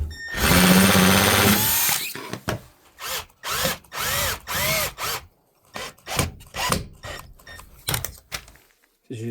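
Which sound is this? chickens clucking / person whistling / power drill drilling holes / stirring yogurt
power drill drilling holes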